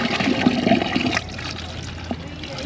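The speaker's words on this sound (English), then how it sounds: "I got this chocolate milk jug that I had. I'm gonna rinse it out." A plastic chocolate milk jug being rinsed out with water at a campground, a loud gurgling splash and slosh for about a second, then quieter trickling and a small drip.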